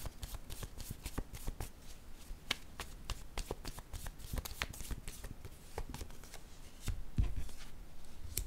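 Tarot cards being shuffled up close in a steady stream of crisp riffling flicks and soft slaps, continuous for several seconds, with a slightly heavier burst of card noise near the end.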